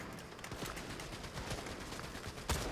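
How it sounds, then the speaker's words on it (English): Rapid gunfire crackles in a continuous stream of sharp bursts, with one louder shot near the end, like distant combat in a game. "Gunfire to our left."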